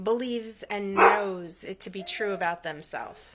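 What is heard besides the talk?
dog barking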